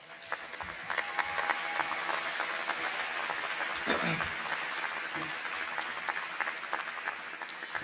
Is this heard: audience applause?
yes